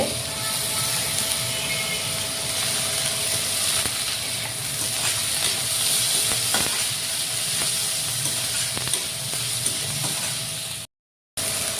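Onion greens with some onion, cumin and spices frying in a pan for an egg curry, a steady loud sizzle with occasional stirring scrapes, no talking, cut off briefly near the end.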